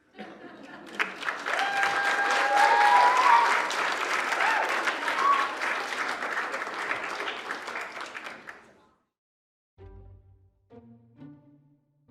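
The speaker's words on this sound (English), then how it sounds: "The crew applauded me." A film crew on set bursts into sustained applause for an actor, a dense wash of clapping that swells, holds for several seconds, then fades out, followed by a few faint scattered sounds.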